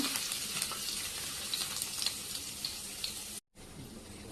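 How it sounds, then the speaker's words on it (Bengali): Chopped garlic frying in hot oil for a Bengali dhenki greens dish, a faint continuous sizzle with light crackles that cuts out briefly near the end before resuming. "এখন আমি কুচি করে রাখা রসুনটাই দিয়ে দিচ্ছি, দিয়ে একটু ভেজে নেব।"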